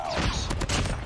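A light machine gun fires in a video game, a dense run of loud, rapid shots over about a second, with sharp bursts that stand out in the middle.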